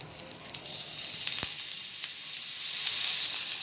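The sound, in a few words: grated potatoes frying in hot oil in a pan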